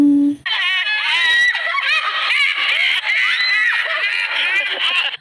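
A woman lets out a loud, sustained shrill scream that wavers in pitch for several seconds, with bursts of high squealing and laughter-like breaks mixed in.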